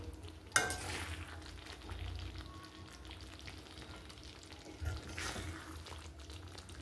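Chicken fry left on low heat in a pan of oil gives off a quiet, steady sizzle, with a couple of soft clinks and scrapes from a utensil against the pan and no talking.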